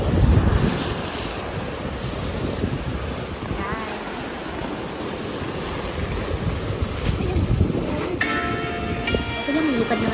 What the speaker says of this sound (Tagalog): nakaupo kami dyan habang binabantayan namin yung alon